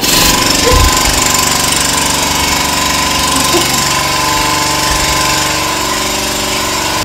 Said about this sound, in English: As the generator kicks in